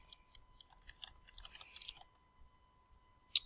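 Quick, light keystrokes on a computer keyboard as a question is typed, a burst of irregular clicks clustered in the first two seconds, then a pause and one sharper tap near the end, close and fairly quiet.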